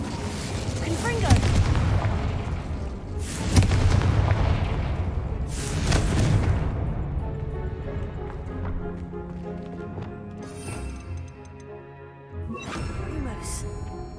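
Confringo blasting spell in Hogwarts Legacy: loud booming explosions burst repeatedly, roughly every two to three seconds, each with a crackling tail, over game music and effects, with a spoken spell name between them.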